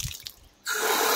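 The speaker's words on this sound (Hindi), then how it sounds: "बहुत तेज पानी भी आ रहा है।" Strong rush of water pouring from an outdoor village tap, starting abruptly after a few faint drips and continuing loud and steady.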